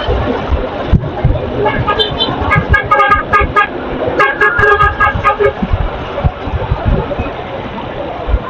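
Short car horn toots sound in busy street traffic, with several bursts around the middle amid engine noise and a steady murmur of nearby voices.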